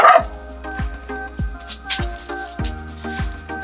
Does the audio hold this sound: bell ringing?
no